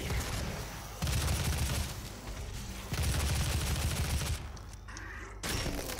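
Rapid gunfire from the DOOM 2016 video game, dense bursts of shots in loud sustained volleys with brief lulls between, alone with no talk.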